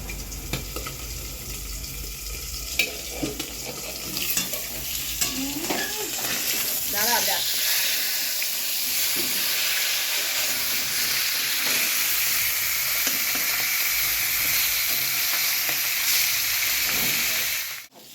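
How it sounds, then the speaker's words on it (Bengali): A fish head fries in hot oil in a home kitchen while mung dal is made, giving a steady crackling sizzle with a few clinks and stirring knocks early on, holding on until it cuts off at the end. "মাছের মাথাটা তুলে নেবো ভাজা হয়ে গেছে"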